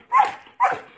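Two sharp, loud dog barks spaced about half a second apart during guard-dog bite training, close and alone with no talking.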